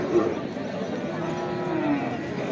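Thin, bony cattle at a Bangladeshi cattle market with few buyers give two drawn-out moos, one near the start and one near the end, over a steady murmur of market crowd noise.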